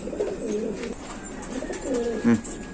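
Racing pigeons in a loft, including a white female, give a few low coos close by, with a brief louder rustle or flutter near the end.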